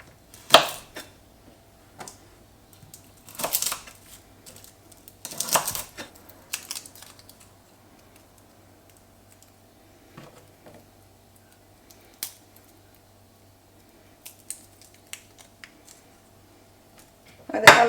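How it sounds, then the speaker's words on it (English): A knife chops on a cutting board in scattered sharp taps and short bursts, close and clear against a quiet kitchen with a faint background hum. "I'm just going to chop it into 3 pieces"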